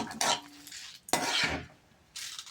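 Chana dal, urad dal and cumin seeds roast in hot oil in a pan, with a few bursts of spatula scraping and stirring over a soft sizzle, fairly quiet.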